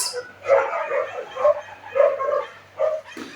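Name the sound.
dogs barking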